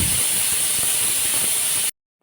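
A pressure cooker vents steam in a loud, steady high-pitched whistle and hiss that runs unbroken for about two seconds, then cuts off abruptly into silence.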